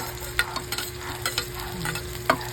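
Garlic, onion and chili sautéing in a pan give a quiet, steady sizzle, broken by a few light stirring clicks and scrapes from a spatula close by, with no talking.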